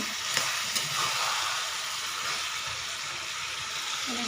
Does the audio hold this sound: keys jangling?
no